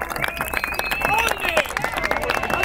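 Crowd at a children's day party for Boca fans clapping in quick bursts, a dense patter of hands mixed with shouting voices and festive noise nearby.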